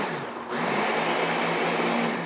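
A blender pulsing a strawberry smoothie: a short quiet pause, then the motor kicks in with a loud whirring roar that holds steady to the end.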